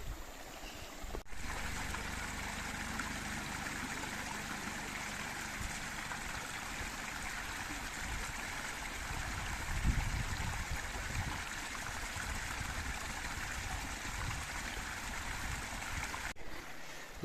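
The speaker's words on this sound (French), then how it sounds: "Oh, une petite cascade là-bas." A small waterfall feeding a mountain stream in a valley near Puy de Sancy makes a steady, continuous rushing and gurgling wash, close and even throughout with no voices.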